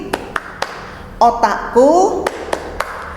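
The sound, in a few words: children clapping in a thank-you clap game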